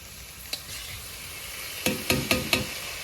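Meat stirred into chowmein in a frying pan over a steady sizzle, with one clink of the utensil and then a quick run of four scraping strokes near the end.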